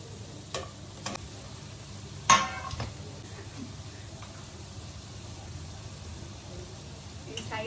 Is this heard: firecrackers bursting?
no